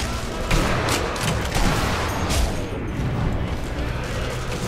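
A chaotic battle in the video game Sniper Elite V2, with dense overlapping gunfire, bursts and crashes forming a loud, continuous barrage, with voices shouting underneath.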